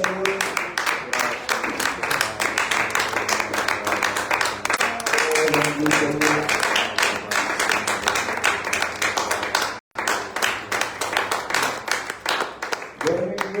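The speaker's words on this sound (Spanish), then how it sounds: "Demos un fuerte aplauso a Dios" Sunday morning church congregation breaking into strong applause to God, rapid close clapping sustained for many seconds with a short gap near the end, voices calling out over the hands.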